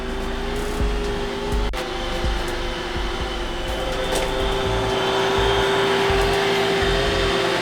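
A brand-new iRobot Roomba robot vacuum cleaner runs nearby with a steady, continuous motor whir and brush drone, with some bumps and a sharp knock early on, while a pet moves around it.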